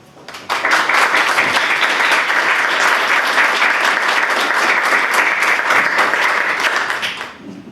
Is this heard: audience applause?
yes